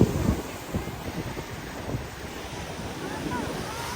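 Sea surf breaking along the beach at Moonkam on the Point Pedro coast in Jaffna during a New Year festival, a steady wash of waves under strong wind rumble with faint voices in the background.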